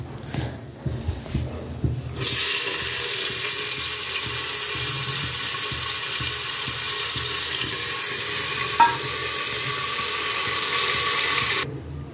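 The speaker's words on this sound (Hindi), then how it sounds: "मैंने इसमें डाल देगा तेल और जीरा। जीरा हमारा अच्छे से चटक गया, तो थोड़ा सा और लाल हो जाएगा" Cumin seeds frying in hot oil in a pan for a potato and tomato curry, a steady loud sizzle starting after two seconds and holding evenly until near the end, with a faint clatter beforehand.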